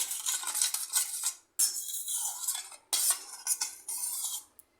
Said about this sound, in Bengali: চিনিটা ভালো করে গুলে নিতে হবে